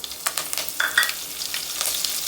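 Cumin seeds and curry leaves crackle in hot oil for a Tamil white onion tamarind curry, a steady close sizzle with scattered pops and a brief bright spatter midway, no voices.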